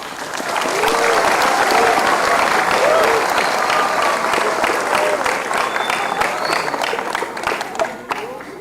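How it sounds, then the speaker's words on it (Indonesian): A large crowd at a Scout (Pramuka) day ceremony in Tegal applauds loudly and steadily for several seconds, the dense clapping fading toward the end, with faint voices mixed in. "Tepuk tangannya buat beliau."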